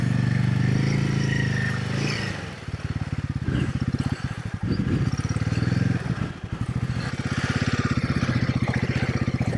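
Royal Enfield Himalayan 450 motorcycle wading through deep water with the exhaust submerged, its engine chugging in a steady rapid pulse, dipping briefly and picking back up as throttle varies, close and fairly loud.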